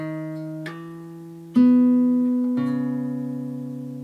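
A clean guitar plays the slide part of the intro to a song, a few picked notes struck about once a second and left ringing, with a sliding pitch change in the middle, close and alone.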